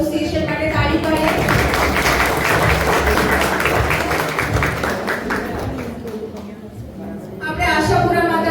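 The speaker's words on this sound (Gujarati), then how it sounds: "આપણે જોરદાર એસોસિએશન માટે તાળી પાડીએ" A large audience claps steadily at a birthday celebration for Param Pujya Mataji, the dense applause running for most of the stretch, thinning briefly near the end and then swelling again as a voice cuts in.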